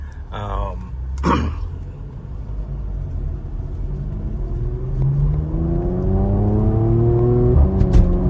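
A 2018 Porsche Macan GTS accelerates hard, its engine note rising loudly with quick PDK gear shifts breaking the climb, as the revs build steadily in a near, continuous roar.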